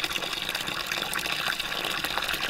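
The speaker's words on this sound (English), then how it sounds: "you didn't have to hear the water running in the background like you are now" Water gushing steadily from a tap or hose while goats are watered, a loud continuous splashing rush close by with no talking.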